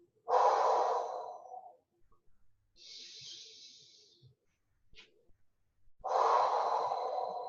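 Strong breaths during a beginner core-restore workout exercise, with two long, loud exhales at the start and end and a softer breath between, each rushing and airy, close up with no talk.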